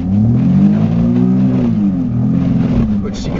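An old car headed for the scrapyard cranks and catches, its engine running and revving loudly in the foreground with rising and falling pitch for a few seconds, as though a voice is talking over it.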